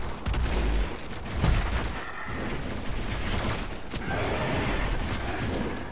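Shotgun firing in DOOM Eternal: a heavy close blast at the start and another just after, followed by dense clattering combat noise and mechanical clicks, no talking.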